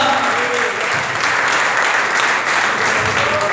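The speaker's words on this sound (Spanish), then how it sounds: "Fuerte ofrenda de palmas al Señor esta preciosa hora." A church congregation claps in praise during worship, a loud, close, continuous roar of many hands lasting a few seconds with faint voices mixed in.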